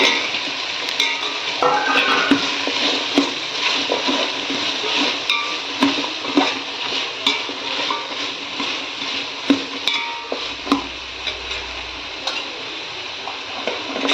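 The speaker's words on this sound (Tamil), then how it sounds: "பச்சை பட்டாணி, தேவையான புதினா எல்லாத்தையும் போட்டு ஒன்றா வதக்கிடலாம்" Carrots, beans, green peas and mint sautéing together in a pan with tomato, giving a steady sizzle broken by frequent light scraping and clinking ticks of a spoon, close and fairly loud.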